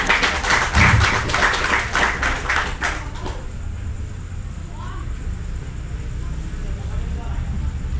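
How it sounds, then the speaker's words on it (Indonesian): An audience at a talk gives a short burst of clapping that stops abruptly after about three seconds. A low hum and faint room noise remain after it. "Tepuk tangan semuanya dong."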